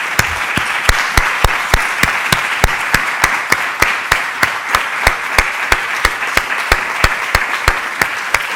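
A closing ceremony audience gives loud, sustained applause, a dense wash of many hands with a steady rhythmic clap running through it.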